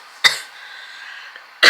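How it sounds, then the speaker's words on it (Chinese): A woman in COVID home isolation coughs, two sharp, loud, close coughs separated by a quiet stretch of low breathy sound. "现在的状况就是会一直这样子咳嗽"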